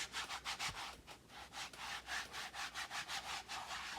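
Rhythmic scratchy rubbing over the coarse denim-like fabric of a Logitech Folio Touch keyboard case, quick back-and-forth strokes repeating steadily at close range.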